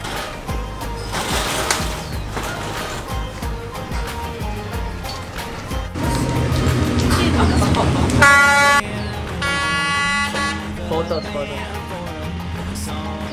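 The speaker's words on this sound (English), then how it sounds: "this is the best viewing platform for the train" On Hanoi's Train Street, a train passes close by amid crowd noise and rumbling, with loud, repeated horn blasts near the end and people talking throughout.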